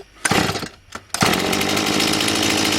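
A STIHL 180 chainsaw with a fault causing stumbles starts after a couple of sputtering pulls, then settles into a loud, steady idle buzz close by.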